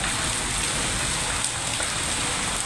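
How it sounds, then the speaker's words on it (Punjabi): Hailstones fall in Punjab with a dense, constant hiss and patter that fills the air close by, steady and without pauses. "ਆ ਦੇਖੋ ਗੜੇ ਕਿਵੇਂ ਪਏ ਆ ਕਿਵੇਂ ਡਿੱਗ ਰਹੇ ਗੜੇ ਹੈ"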